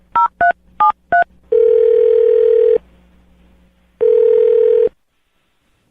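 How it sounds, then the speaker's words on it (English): A telephone number is dialed as four crisp touch-tone beeps, then two long ringback tones separated by silence. All are loud and close, with no talking. "I'm gonna dial his phone number right now"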